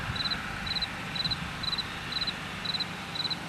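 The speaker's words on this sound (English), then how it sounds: "Can you hear the crickets?" Crickets chirp in a garden, sending out seven short, evenly spaced high trills at a faint to moderate level over a soft background hush.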